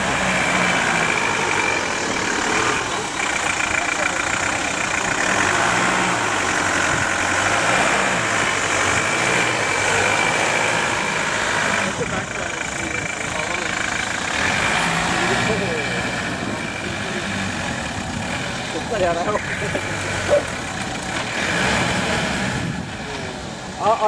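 A Force Gurkha off-road vehicle's engine rumbles steadily, idling and revving under load while its diff locks are tested, with people talking over the continuous drone.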